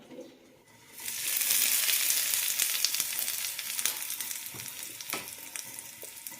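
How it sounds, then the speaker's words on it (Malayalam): Mustard seeds and curry leaves burst into a loud, close hiss as they drop into hot oil for tempering a banana stem chutney. The sizzle settles into a steady crackle with scattered pops and slowly fades. "ഇനി ഇതിലേക്ക് കടുകും കറിവേപ്പിലയും താളിച്ചിടാം"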